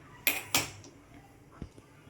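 Two sharp metallic clanks close together as a heavy wok is set down on a stove, followed by a faint softer knock.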